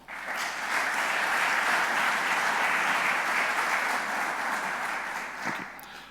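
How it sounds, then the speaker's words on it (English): Conference audience at a Chartered Institute of Building summit applauds the team, a broad, steady roar of clapping that swells in and fades toward the end, alone without talk. "Please give them all a round of applause."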